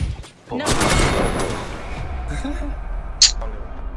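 Video game gunfire bursts loudly at the start and rolls on in a dense rattle, then fades under someone talking, with a sharp click near the end.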